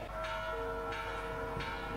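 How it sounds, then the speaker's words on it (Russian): A church bell rings during a Mexican Independence Grito ceremony, three steady strokes spaced evenly with long humming resonance between them, heard from a distance over a low crowd-like murmur. "Еще колокол."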